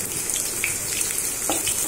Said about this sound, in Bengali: পেঁয়াজকে একটু ভেজে নিব।